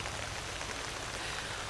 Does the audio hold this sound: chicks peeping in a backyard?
no